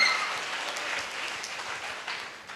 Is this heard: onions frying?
no